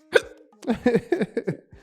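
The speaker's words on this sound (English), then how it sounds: "Why do I have the hiccups so I randomly?" A sharp, close hiccup sounds once near the start, then a person speaks briefly.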